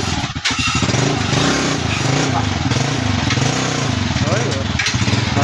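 Running engine of a repaired Barako 2 motorcycle revving steadily and loudly during a test drive, near and continuous, with people talking over it.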